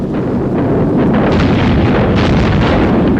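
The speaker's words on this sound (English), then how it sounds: "Fleets of Lancasters and Halifaxes cascaded bombs onto the German positions." Bombs dropped by fleets of Lancaster and Halifax bombers pound German positions: a continuous loud, rumbling roar of explosions with wind-like blasts and no breaks.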